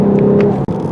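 A 2023 Lexus RC350 F Sport AWD with a 3.5 liter V6 in Sport Plus mode gives a loud, steady engine and exhaust drone from inside the car, briefly dipping near the end of the moment.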